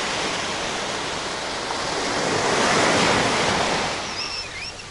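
Sea waves breaking on a beach in Turkey in a continuous broad wash that swells in the middle and eases off, with a few faint bird chirps near the end and no talking.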